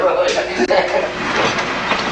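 A diesel train on the Newfoundland Railway recouples its cars, giving a rumbling, rattling rail noise with a clank near the start, loud and close, with voices talking over it.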